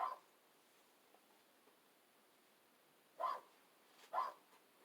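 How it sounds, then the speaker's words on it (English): A dog barking somewhere outdoors: three short, faint barks, well spaced apart, over otherwise quiet background hiss. "That darn dog."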